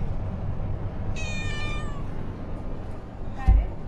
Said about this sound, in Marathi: हे ओळखीचं आहे माझं मांजर